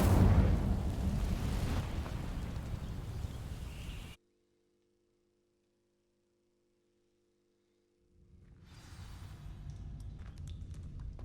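Incendio fire spell bursting into flame across dry vines in Hogwarts Legacy: a loud, roaring blast sustained for about four seconds, then abrupt silence, before a fainter crackling rumble returns.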